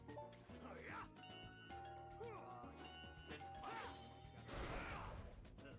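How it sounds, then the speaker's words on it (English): A doorbell chime sounds in the video game Sonic Unleashed, a ringing ding-dong over busy game music, with a crash and clatter near the end. "I could do without the door open, the doorbell sound effect."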